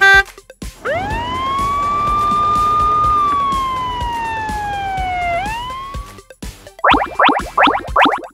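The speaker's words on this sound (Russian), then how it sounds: "это полицейская машина." A police car siren wails in a single long, rising then slowly falling tone, loud and close, followed by a few short rapid yelp bursts at the end.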